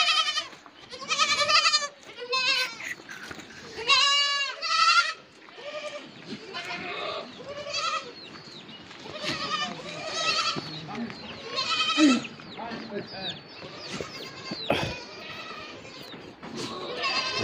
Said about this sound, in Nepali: बाख्राहरू बाँध्ने ठाउँमा बाख्राहरू